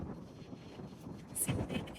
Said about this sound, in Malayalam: നല്ല അത്യാവശ്യം നല്ല കാറ്റുണ്ട്.